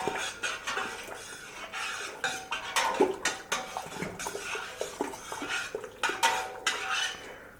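A spoon stirs sugar into a one-gallon batch of corn wine mixture, giving a steady run of close, light clinks and scrapes against the container with no talking.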